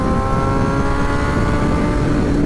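A Kawasaki ZX6R Ninja 636 motorcycle engine runs loud and close, a steady rumbling drone holding at a constant level throughout with no voices.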